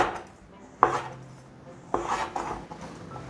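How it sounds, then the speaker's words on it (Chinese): A knife chops through fresh shiitake mushrooms on a cutting board in two distinct sharp cuts, each followed by a brief scraping rub, close and clear with no talk. "先把鲜香菇的角切下来，这里切片"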